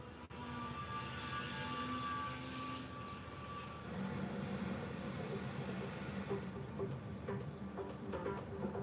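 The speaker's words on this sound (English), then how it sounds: "here it comes. The Leo Express sleeper train to Przemysl, Poland, on the border with Ukraine." Leo Express sleeper train bound for Przemysl, Poland, rolling in with a steady mid-level rumble and engine drone, faint squeals and clatter rising as it nears.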